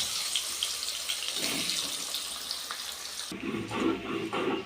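Chopped onion dropped into hot oil with whole garam masala for a mutton curry, giving a steady hissing sizzle that swells louder partway through, close and without talk.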